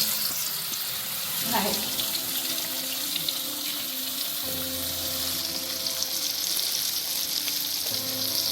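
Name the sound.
avoli fish frying in coconut oil in a pan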